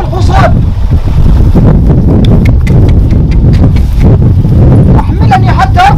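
Horse hooves clip-clop in a rapid, uneven rhythm, loud and close, under outdoor wind noise and someone speaking over them.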